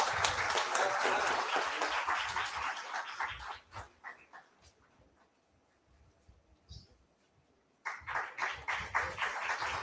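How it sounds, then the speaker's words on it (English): Audience applause at the inaugural function of an agri and biotech summit, a dense burst of clapping that fades to near quiet, then resumes in rhythmic bursts toward the end. "Can we have a big round of applause"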